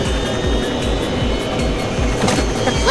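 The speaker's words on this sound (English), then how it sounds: "The plane took off successfully." A cartoon airplane takes off in a children's flying game, its engine giving a loud, steady roar with a rhythmic pulsing throb that runs throughout.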